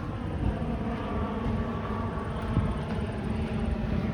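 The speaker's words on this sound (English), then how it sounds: "there's a plane up there where you can't see behind the trees, but it's flying directly overhead" Airplane passing directly overhead, hidden behind trees above a wooded park on the Leslie Street Spit in Toronto, a steady broad low engine roar holding at even loudness throughout with no talk.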